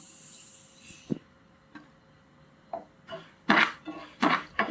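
Black sesame seeds being dry-roasted in a pan, a few sparse scraping and clinking stirs against the metal that grow louder and more frequent toward the end, close and without talk.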